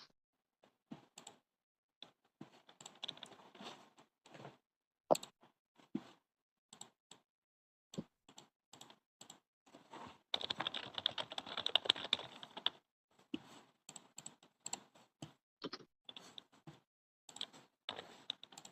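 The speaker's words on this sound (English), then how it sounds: "I'm still typing." Close, quiet typing on a computer keyboard, with irregular bursts of key clicks and a denser, faster stretch in the middle, and no talking.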